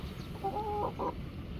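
Chickens clucking on a rooftop while eating cabbage leaves, a few short soft clucks in the middle of a quiet moment.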